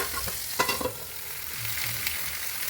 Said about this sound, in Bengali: আমার এক পিঠ ভাজা হয়ে গেছে, আমি আবার উল্টিয়ে আর এক পিঠ ভেজে নেব।